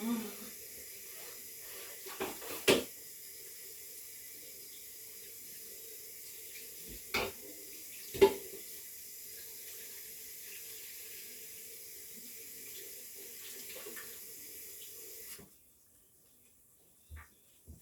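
Water runs steadily from a kitchen sink tap while a pot lid is washed, with a few clatters and knocks of the lid against the sink before the flow stops abruptly near the end.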